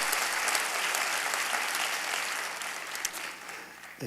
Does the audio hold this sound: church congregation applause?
yes